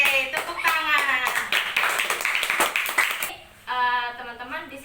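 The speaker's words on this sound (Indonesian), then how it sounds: "Oke, tepuk tangan." A class of elementary school pupils clap their hands together in quick, fairly even bursts, with a short pause before the clapping resumes, while children's voices chatter and call out over it.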